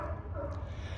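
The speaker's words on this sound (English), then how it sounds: "You can hear the seals and sea lions barking in the water." Seals and sea lions bark in the water off a working pier in Monterey, heard as a faint, distant chorus of brief calls over a steady low background rumble.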